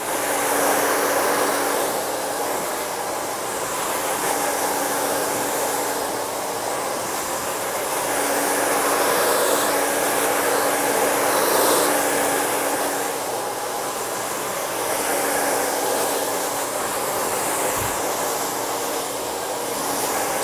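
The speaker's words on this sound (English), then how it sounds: "if you have the nozzle part of the blow dryer on, you want to keep that on" A hair dryer fitted with a nozzle blows air over hair, producing a loud, steady, continuous rushing whoosh that swells and fades slightly as it moves around the head.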